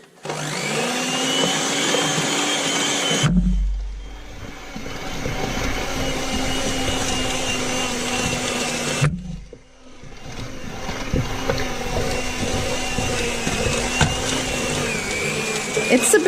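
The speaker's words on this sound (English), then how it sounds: "the machine, so it's getting a little bit weak if it has to make its way through the dough" An old kitchen machine kneading bread dough gives a steady, strained motor whir that stops briefly twice and restarts, loud and close throughout with no talk over it.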